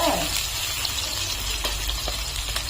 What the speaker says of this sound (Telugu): వేపుకున్న నూనెలో అల్లం పేస్ట్ వేపుకున్నాం